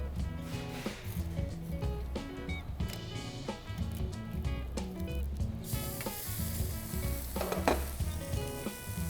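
Japanese Wagyu beef searing on a charcoal grill where dripping fat has caused a flare-up: dense crackling sizzle with sharp spits and pops, close and continuous, no voices.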